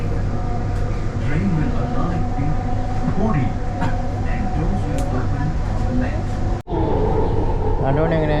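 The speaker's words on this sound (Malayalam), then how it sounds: "ബാംഗ്ലൂർ മെട്രോയിൽ നമ്മൾ മെട്രോ സ്റ്റേഷനിലേക്ക് പോയിക്കൊണ്ടിരിക്കുകയാണ്" Bangalore metro train on the purple line, a steady loud rumble and hum of the moving carriage throughout, with voices in the background and a brief dropout near the end.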